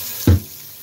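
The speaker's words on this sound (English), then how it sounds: "Let's fill this up with water." Tap water gushes into a cooking pot in a short, loud splash lasting a fraction of a second before settling into faint background hiss.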